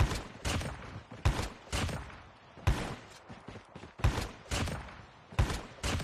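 Gunshots ring out in Call of Duty, about nine sharp, loud single shots fired at an irregular pace with short gaps, close and punchy, with no voices.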